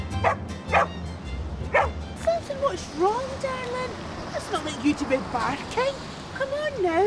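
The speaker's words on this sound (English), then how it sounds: "That's not like you to be barking." A dog barks in sharp, separate yaps early on, then whimpers and yelps in rising, whiny tones, fairly close, with a voice speaking alongside.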